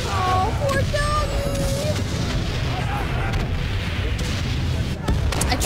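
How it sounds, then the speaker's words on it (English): Cannons firing in the World War video game Valiant Hearts 2, a loud continuous rumble of artillery booms and blasts under game music, with a voice speaking over it. "Those are cannons."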